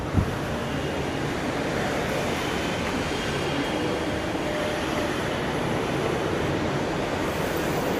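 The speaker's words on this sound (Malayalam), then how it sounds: "അതുകൊണ്ട് നമ്മൾ ഇവിടത്തേക്ക് മെട്രോ കയറിയത്" Ride inside a moving metro train, a loud steady rumble and rolling rail roar filling the car throughout, with no talk.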